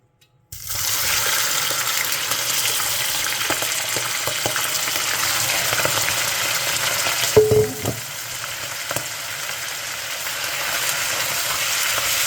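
Pork belly drops into hot caramel for Chinese braised hong shao rou and bursts into a loud, steady sizzle, with a brief clatter of stirring midway and continuous frying noise close up.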